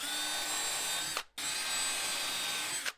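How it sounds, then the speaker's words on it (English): A power drill whines steadily at high speed while installing a basement stair handrail, stops briefly, then runs again in a second sustained burst before winding down. "I don't know how to drill here at an angle and also hit the wall."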